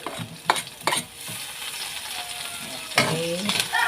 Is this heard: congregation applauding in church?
no